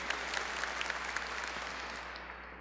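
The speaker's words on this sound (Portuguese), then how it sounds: "Dá uma salva de palmas" A church congregation claps steadily during a Catholic homily, a dense wash of applause that continues without a break before tapering slightly at the end.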